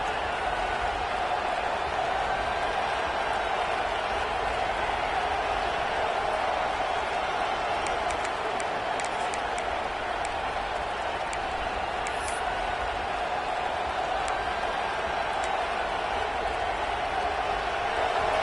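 A football stadium crowd roaring steadily as the home defense faces a big third down in the red zone: a constant, fairly distant wall of cheering noise with broadcast commentary over it.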